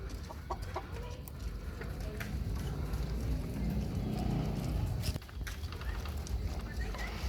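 A seven-month-old white gamecock rooster clucks outdoors among other fowl under steady background noise, with people talking nearby.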